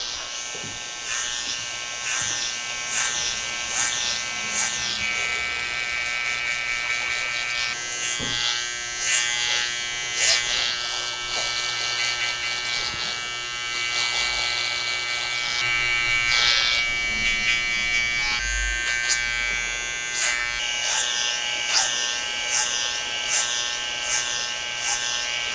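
A hair clipper buzzes close by while tapering the back and sides of a haircut, its steady electric hum broken by repeated short passes and bursts as it cuts.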